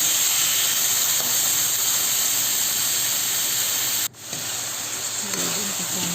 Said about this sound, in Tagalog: ang paggigisa. Gisa lang sa lahat